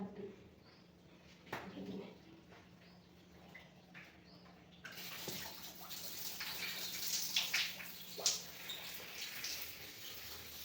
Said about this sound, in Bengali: দু মিনিট হয়ে গেছে তো এবার ধুয়ে ফেলো